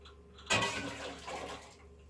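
Cold tap water gushes over a baked persimmon cottage cheese casserole dish to cool it, a sudden broadband splash starting abruptly and running steadily for over a second before easing off.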